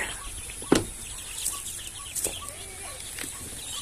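Muscovy ducklings a few days old peep in short high calls, scattered and fairly close over a quiet background, with a couple of soft knocks.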